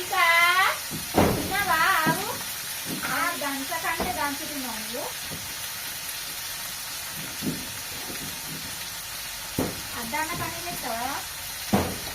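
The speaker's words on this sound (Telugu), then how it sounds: "అయితే లైట్గా ఫ్రై అయిపోవాలా" Food fries lightly in a pan at a tiffin center, a soft, steady sizzle running beneath intermittent close talking.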